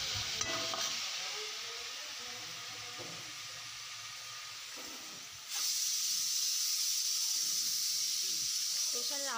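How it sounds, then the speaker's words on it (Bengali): A pressure cooker cooking daliya hisses steadily, with a steady hiss that swells louder partway through. Potatoes fry nearby, and faint voices can be heard. "প্রেশারের আওয়াজ কি? প্রেশারে হচ্ছে মেয়ের দালিয়া"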